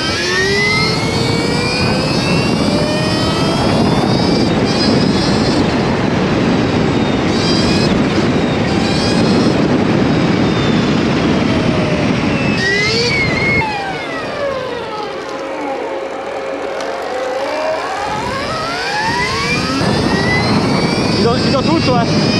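A Stark Varg electric motocross bike in fifth gear accelerates with a loud, continuous rising electric whine, then the roar drops away briefly before climbing again, with wind noise and a voice talking over it.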